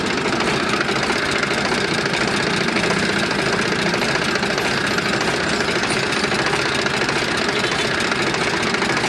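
A 50 HP tractor engine running at idle, a loud, steady diesel rumble with a continuous knocking vibration and no pauses.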